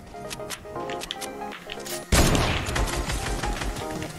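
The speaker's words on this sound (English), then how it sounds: "I just pumped my dude 140 the head." Pump shotgun shots in the game Fortnite, a burst of loud sharp blasts followed by a dense crashing barrage of impacts and gunfire, close and heavy.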